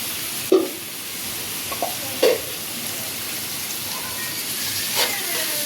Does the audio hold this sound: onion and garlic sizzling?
yes